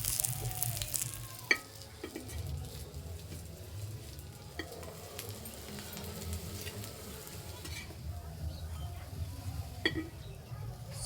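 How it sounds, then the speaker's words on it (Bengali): Bathua greens fritters fry in a pan with a steady low sizzle and bubbling, broken by occasional sharp clicks and stirring scrapes, close by with no one talking. "সবগুলো একইভাবে ভেজে নেব।"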